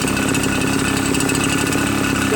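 A RedMax EBZ8050 gas backpack leaf blower engine runs steadily at a smooth idle after new piston rings, a continuous near, loud buzzing hum with no break and no talking.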